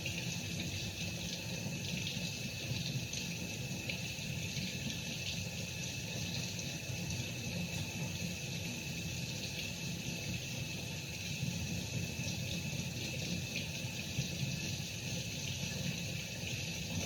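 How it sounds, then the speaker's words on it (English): Tap water running steadily into a sink while mustard is rinsed off gloves, an even hiss and splash that goes on unchanged and fairly quietly throughout. "I'm just rinsing my gloves, guys, from the mustard."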